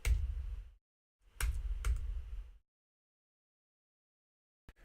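Computer keyboard typing, close and crisp, in two short bursts of rapid keystrokes separated by a pause, then quiet with a single click near the end.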